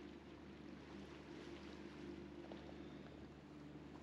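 A catamaran sailboat motoring under diesel power in light wind, with a steady low engine drone and broadband wind and water noise running continuously and evenly throughout, without any voices.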